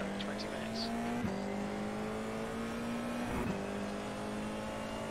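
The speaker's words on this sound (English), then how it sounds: "Get the engine revving." A race car engine revs hard at the start of a race, a steady loud droning tone with small pitch dips, continuous under faint talk and track ambience.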